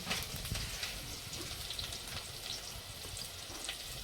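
Chopped onions sizzle in hot oil as tempering for a Gujarati karela curry, a steady close crackling fry that carries on alone without a break.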